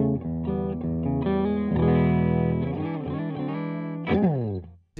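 Fender Stratocaster on its bridge pickup through a Supro Dual Tone 112 combo amp, playing a brief phrase of notes and chords with a final struck chord ringing out and fading, heard alone without talk.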